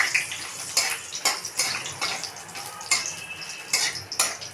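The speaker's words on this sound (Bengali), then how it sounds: "তেল দিয়ে তেজপাতা, শুকনো লঙ্কা, ডালচিনি ভালো করে ভাজলাম।" Bay leaf, dried chilli and cinnamon fried in oil in a wok, heard as a run of sharp metallic clinks and scrapes from a spatula over a steady low sizzle, with no talking.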